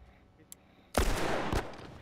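Gunfire in a first-person shooter match, a sudden loud burst of shots starting abruptly and holding as a dense, sustained volley, with a second sharp crack near the end.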